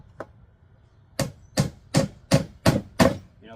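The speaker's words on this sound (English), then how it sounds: "we just got hammer and nail today" A hammer drives nails into a cedar board, one light tap followed by five sharp, evenly spaced strikes, close and loud with quiet gaps between blows.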